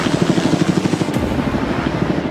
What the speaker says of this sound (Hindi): ये हेलीकॉप्टर हमारे बॉयज को ऊपर हवा में ले जाएगा